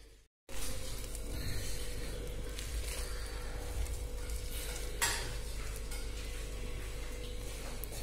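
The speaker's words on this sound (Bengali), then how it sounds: "তেল চাপিয়ে রেখেছি আমি, এবার এগুলো পকোড়া করে ভাজছি" Battered prawn-head pakoras coated in arrowroot and gram flour fry in hot oil, a steady close bubbling sizzle running throughout after a brief silent gap at the start, with faint clinks of a utensil.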